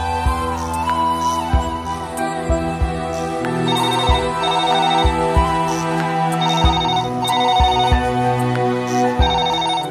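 A telephone rings in a Tamil television serial scene, a repeating electronic ringtone pattern in steady bursts over background music, loud and clear for the full ten seconds.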